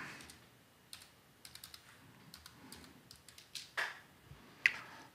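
Soft, quick keystrokes on a computer keyboard, typing in short irregular runs with a few sharper clicks near the end, quiet and close with no talk.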